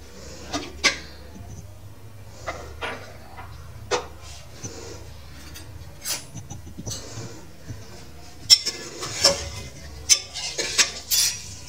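A metal pressure cooker holding turnip and mutton with peas is opened and checked, giving a scattered series of sharp metallic clinks and clanks of lid and utensils, close and mostly without talk.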